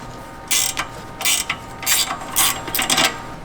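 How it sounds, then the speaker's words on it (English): A ratcheting 15 mm wrench loosens the tie rod clamp nut on a Jeep JL Wrangler, giving close, loud bursts of rapid clicking in about five separate strokes with short pauses between. "I got myself my 15 millimeter wrench. I'm gonna go ahead and loosen up this clamp nut."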